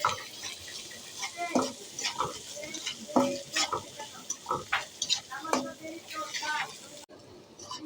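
Pangas fish frying in oil with turmeric and chili powder, a close crackling sizzle broken by repeated spatula scrapes and clinks against the pan, which goes suddenly quieter near the end.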